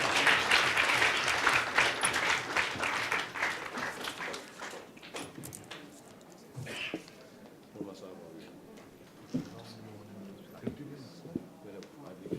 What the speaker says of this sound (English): Give him a big round of applause, please.